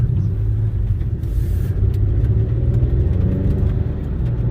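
An Acura TLX SH-AWD with the 2.0-litre turbo engine pulls under hard acceleration, a steady low rumbling drone heard from inside the cabin, loud and continuous with a faint rising tone.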